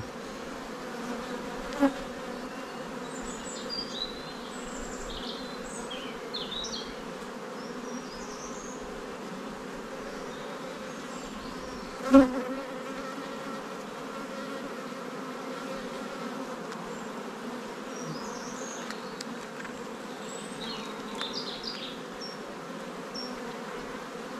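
Bees buzz close by in a steady, layered drone, with individual insects whirring past now and then; a single sharp click stands out midway.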